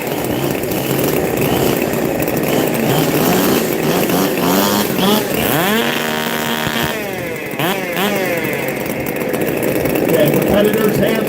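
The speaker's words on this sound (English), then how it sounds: "fire up your saws, put them on the ground" Several chainsaws at a sawing competition are started and left idling on the ground, making a loud, continuous buzzing drone with revs rising and falling across the whole stretch.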